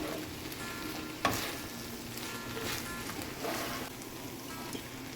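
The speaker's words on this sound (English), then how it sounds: "Give this a stir." Steady soft sizzling as shredded cheese is stirred in a hot pan of a one-pan meal, with a faint scrape and a small clink early on.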